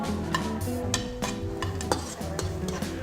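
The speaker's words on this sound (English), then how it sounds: "Fry for a minute or two until your onions is actually lightly translucent" Onions and white cabbage fry in a GreenPan pan while a utensil stirs them, giving a steady sizzle with repeated scraping clinks and no speech.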